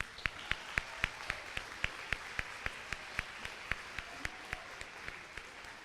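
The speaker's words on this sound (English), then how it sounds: "let's give them all a round of applause." Audience applause at a Salvation Army Kroc Center tenth anniversary birthday party, a moderate steady wash of clapping with sharper individual claps standing out in a regular beat throughout, heard at some distance.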